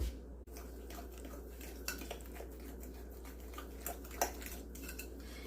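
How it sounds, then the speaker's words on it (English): Butter and sugar being mixed in a bowl, with a utensil scraping and tapping against the dish in a steady low clatter and occasional sharper clinks under a constant background hum, no voices. "I'm just going to go ahead and put my butter and my sugar together"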